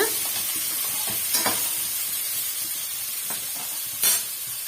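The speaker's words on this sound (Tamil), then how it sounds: "சேர்த்துட்டு நல்லா வந்து வதக்கி விட்டுக்குங்க" Onions sautéing in a pan for chana masala gravy, a constant close sizzle broken by a few sharp stirring scrapes, including a louder one near the end, with no voices.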